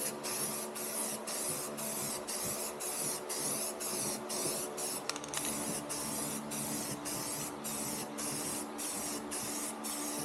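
Steady spray painting of black paint onto a Chevelle car part mounted on a rotisserie, a continuous close hiss with regular short breaks as the nozzle is released and pressed again.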